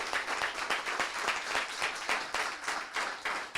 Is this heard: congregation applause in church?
yes